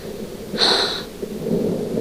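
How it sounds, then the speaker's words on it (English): A distant roll of thunder on a gray, dismal day, a broad low rumble with a brief brighter swell near the middle, heard alone without voices. "gray daylight and the faraway rumble of thunder"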